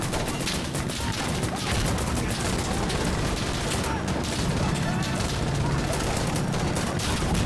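Rapid AK105 rifle fire in the video game Insurgency: Sandstorm, dense bursts of automatic shots continuing throughout amid other battlefield gunfire, loud and close.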